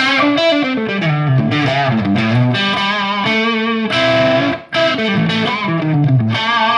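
An overdriven Ibanez FRM250MF Paul Gilbert Limited Signature electric guitar plays a bluesy phrase with gritty, saturated sustain and bending notes, loud and continuous with one brief dip.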